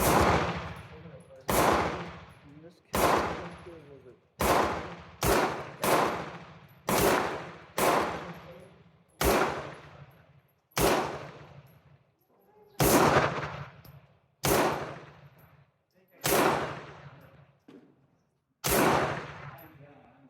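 Pistol shots from an Astra 600/43 fitted with a reproduction grip, about fourteen loud, sharp reports fired at an uneven, steady pace, each with a short ringing decay, outdoors at a range.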